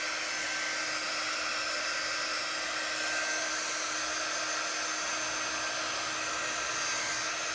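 A dryer blows a steady, loud, even whoosh with a thin whine over it, drying gingerbread transfer paste. The sound runs unbroken and alone, with no voices.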